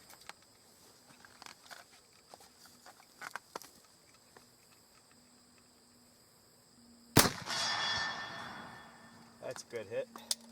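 An 1863 Sharps carbine fires a single loud, sharp shot at a steel target 50 away, followed by a ringing decay, after quiet rustling and small clicks.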